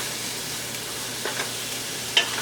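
Garlic and ginger sizzle steadily in a pan for vegan orange chicken, a soft, even frying hiss with a few faint stirring scrapes and one sharp clink near the end.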